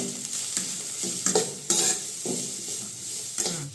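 Salt, pepper powder and garam masala are stirred into vegetables frying in a pan for Hakka noodles: continuous close sizzling broken by repeated scraping spatula strokes, with no talking.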